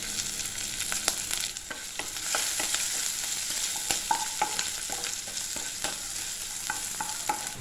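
Green chilli and ginger frying and being stirred in a pan for rava idli: a steady close sizzle with repeated light scrapes and taps of a spoon against the pan, no voices.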